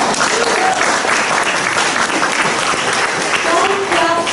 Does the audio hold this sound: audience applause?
yes